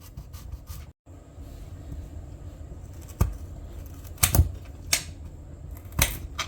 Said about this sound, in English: I'm going to dice my potatoes.